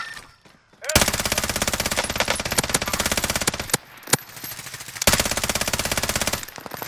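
A light machine gun fires in Call of Duty Warzone, loud close bursts of rapid automatic shots, a long stream broken by a short pause, then another sustained burst.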